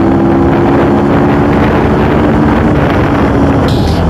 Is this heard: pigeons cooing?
no